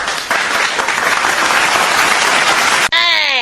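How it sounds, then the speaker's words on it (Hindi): Loud dense clapping from a crowd of students praising a classmate's 95% exam result, a continuous wash of claps that stops abruptly near the end, followed by a brief tonal sound. "जोरदार ताली बजाओ"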